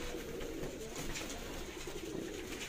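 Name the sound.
pigeons cooing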